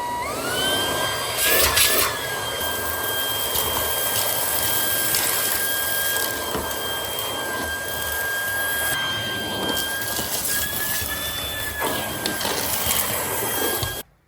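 A Shark ICZ300UKT cordless upright vacuum cleaner fitted with the crevice tool runs as a loud, steady motor whine with a high tonal hum that shifts pitch slightly. It holds constant for the whole stretch, then cuts off at the end.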